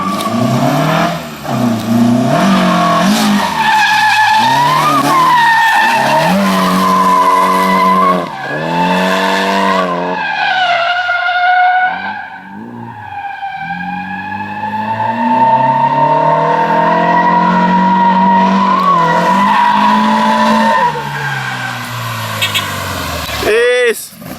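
A drift car slides in dry conditions, its tires squealing and skidding loudly in long wavering howls while the engine revs and bounces on the limiter, close and continuous with brief dips between passes.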